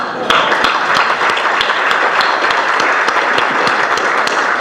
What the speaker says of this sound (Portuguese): A gente devia fazer uma salva de palmas para o Júlio